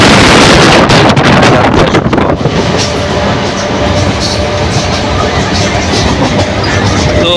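A loud, rumbling train ride with steady rattling and wind rushing past, close and continuous, with no talk.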